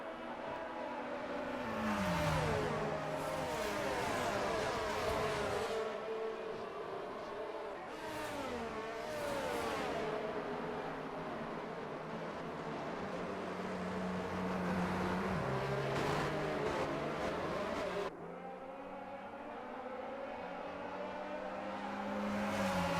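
Formula 1 cars in F1 23 at the French round, engines droning and revving steadily with pitch sweeps as they weave to warm tires behind the safety car before a restart, continuous and loud.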